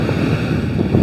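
Wind gusting across a South Florida beach and buffeting the microphone: a steady, loud, low rumble with no pauses and no voices.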